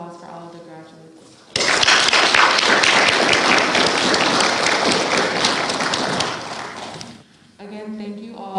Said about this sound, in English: Can we have another round of applause for all of the graduates?